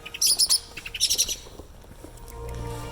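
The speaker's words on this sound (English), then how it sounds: "There's a very unhappy bird with me just there." A distressed bird gives sharp, high chirping calls in two close bursts beside the Brecon canal towpath, followed by quieter scattered chirps over soft outdoor ambience.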